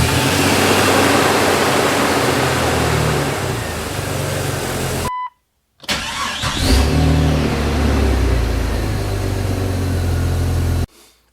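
A Jeep Cherokee XJ engine with a THOR cowl intake roars loudly at high revs on cold start, cuts out briefly, then restarts and keeps revving steadily before dropping away at the end.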